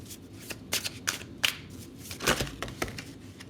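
Tarot cards being shuffled by hand up close: a run of quick, papery riffles and soft slaps in irregular bursts, with no talking.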